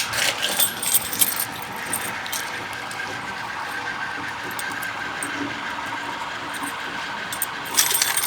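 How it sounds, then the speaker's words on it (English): A bunch of keys jangles and clinks while a vote tabulator is being unlocked, bright metallic rattling in bursts at the start and again at the end over steady background room noise. "Okay, now you need your keys and you'll unlock it."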